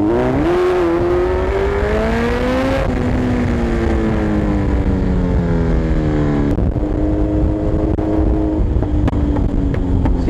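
Kawasaki Z900 motorcycle engine revving while riding, loud and close, pitch climbing through gears with shifts and drops between pulls, a continuous roaring whine.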